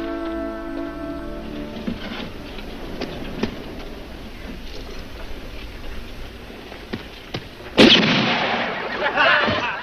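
Amid train rumble and scattered clanks, a single loud gunshot cracks sharply near the end, followed by a lingering roar, in a 1970 western film.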